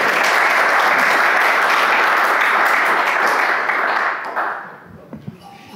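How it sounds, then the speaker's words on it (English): Conference keynote audience applauding steadily, a dense wash of clapping for about four seconds before it fades out, followed by a few faint sounds from the room. "Oh, you were just going to clap."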